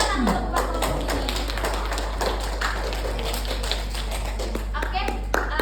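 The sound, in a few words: classroom students clapping for a group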